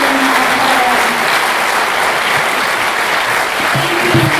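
Loud, sustained applause from a crowd at a candidates' forum, steady clapping throughout with no voices standing out.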